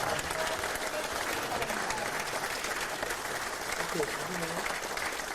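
Sustained applause fills a People Power Party caucus meeting room, a dense wash of many hands clapping at even strength, with a voice speaking over it.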